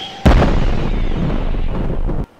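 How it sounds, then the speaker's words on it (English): An explosion sound effect from the video game Dragon Ball Mortals 4 goes off as one sudden loud blast, followed by a roaring rumble for about two seconds before it cuts off abruptly. "That explosion sound effect is wild."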